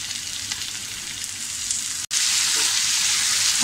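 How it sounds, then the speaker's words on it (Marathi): Chopped tomatoes with onions are sautéed in hot oil for egg bhurji, a loud, steady sizzle close up with a brief cut midway and no talk. "हा टॅमॅटोसुद्धा आपल्याला अगदी छान एकदम मऊ असा याच्यात परतून घ्यायचा आहे"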